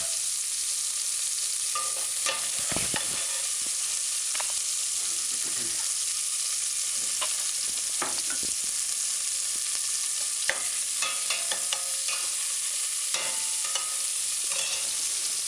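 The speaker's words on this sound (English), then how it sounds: "and the diced onion and saute" Diced onion and scallion sautéing in a pan over a medium-low stove, a steady close sizzle broken by repeated scrapes and stirring clicks of a utensil, with no talking.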